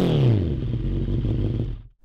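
Honda CBR650R 2019 inline-four firing up: a loud, close starter-and-catch burst that settles into a brief idle, then cuts off abruptly near the end.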